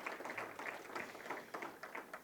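Audience applause at a joint announcement event by the Windsor-Detroit Bridge Authority and Trans Canada Trail, faint scattered clapping from a modest crowd, uneven and somewhat distant, briefly following a speaker.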